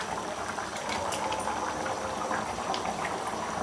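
Telangana-style fish curry (chepala pulusu) bubbles steadily in a pot after mango pieces are added, a constant close simmering hiss with soft popping and no voices.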